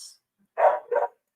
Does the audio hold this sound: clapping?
no